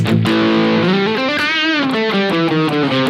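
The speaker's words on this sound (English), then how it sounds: "And then of course the high gain tones here in these OD channels," Distorted electric guitar through a Marshall JVM410H amplifier's high-gain OD channel, with sustained, saturated chords and a bending lead phrase ringing continuously and loud with no talking.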